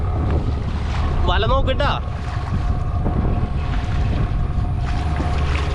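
A motor boat runs at medium speed on the Kerala backwaters, its engine a steady low drone with water wash throughout, while a voice speaks briefly near the start.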